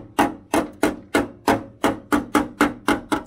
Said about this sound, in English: I use this great little hammer here